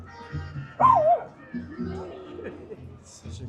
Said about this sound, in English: Such a cute dog,